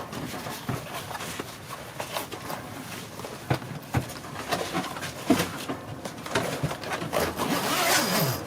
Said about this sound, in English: Pull that zipper all the way down here